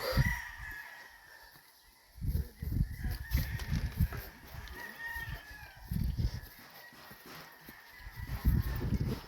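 Fighting cocks in Murcia, Negros Occidental crow and cluck from pens around a yard, overlapping calls near and far rising in bursts over a low background hum.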